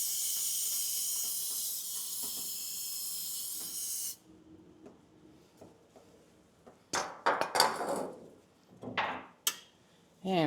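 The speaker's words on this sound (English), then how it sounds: "Go ahead and give these a little spritz so we can tell if we have a leak later." A spray bottle hisses steadily over a Land Cruiser transfer case for about four seconds, then stops. Faint clinks follow, and a few short spritzes and louder knocks close it out.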